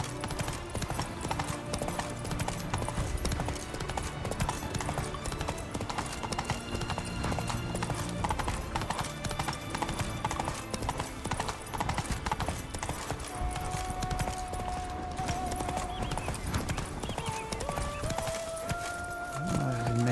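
Geralt's horse Roach gallops in the Witcher 3 video game, a quick steady clip-clop of hooves continuing throughout over ambient game music, with a short whinny near the end.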